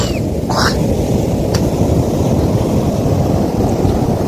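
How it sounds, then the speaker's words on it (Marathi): Sea waves washing onto a long beach between two hills: a loud, steady broadband wash of surf with wind buffeting the microphone, continuous throughout, with a brief faint voice near the start. "बघा लांब लचक समुद्र किनारा दोन डोंगरांच्या दरीमध्ये हे समुद्राचा एक टोक आलेला आहे"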